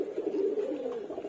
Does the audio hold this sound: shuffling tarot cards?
no